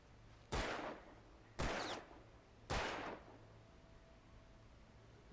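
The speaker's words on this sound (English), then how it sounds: "Shoot the beer cans?" Three loud, evenly spaced gunshots fired at beer cans in the video game Alan Wake Remastered, each a sharp crack with a short decaying tail, separated by about a second of quiet.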